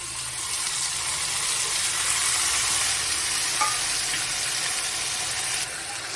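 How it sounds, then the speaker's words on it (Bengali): Onion frying in a pan with garlic paste, onion paste, tomato and chopped chili added, a steady close sizzle running unbroken throughout with faint stirring scrapes and a slight drop near the end. "পেঁয়াজটা মোটামুটি ভাজা হচ্ছে, এর মধ্যে দিয়ে দেবো রসুন বাটা, পেঁয়াজ বাটা, টমেটো, লঙ্কা কুচি।"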